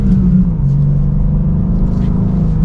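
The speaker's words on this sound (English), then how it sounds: "I do like how that exhaust sounds in the stock form" A 2024 BMW M2 with manual transmission and stock exhaust, accelerating, drones loudly and steadily up close, a deep rumbling exhaust note holding through the stretch.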